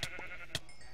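Minecraft sheep bleating in a video game, a couple of faint short bleats heard quietly and close, without talk.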